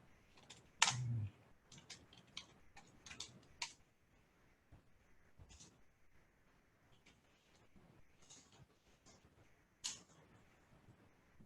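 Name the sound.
typing content on a computer keyboard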